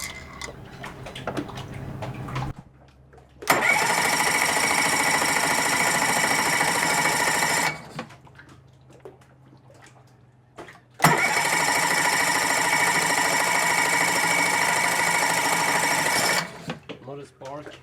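A boat engine cranks but will not start after its CDI unit has been replaced. Two long, loud, even bursts of starter whirring come close by, with a short pause between them. Quiet talk fills the gaps before and between the attempts.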